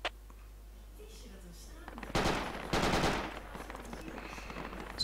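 Gunfire in the tactical shooter Project Reality arrives as a burst of fast, loud automatic shots midway through, preceded by a faint single crack and quieter background, with a later sharp pop.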